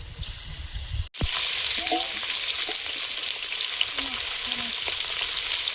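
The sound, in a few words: frying fish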